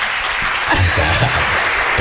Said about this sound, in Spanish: a los aplausos limpios